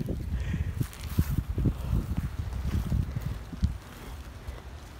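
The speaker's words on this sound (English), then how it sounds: "See, that wind is so strong right now." Strong outdoor wind buffets the microphone in loud, rumbling low gusts while paper airplanes are flown at dusk near a wall, easing toward the end; no voices are heard.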